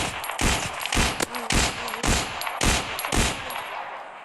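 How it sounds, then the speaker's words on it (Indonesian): An Aplok toy gun firing a rapid string of about eight sharp snapping shots in quick rhythm, close and fairly loud, with no talking. "Seperti ini kalau nembak ya."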